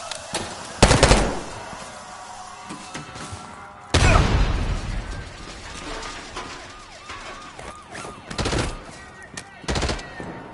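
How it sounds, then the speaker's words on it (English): A grenade explosion and gunfire in the video game Black Ops 6, with sharp close gunshots, bursts of automatic fire, a heavy blast near the middle and scattered shots after, mixed with shouted in-game voices and siren-like tones. "Grenade incoming!"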